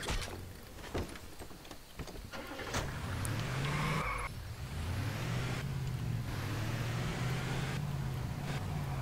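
A car in the video game Just Cause 2 multiplayer drives with a steady, droning engine and skids on the road. Rough tire and road noise comes first, then a sustained engine hum carries on to the end.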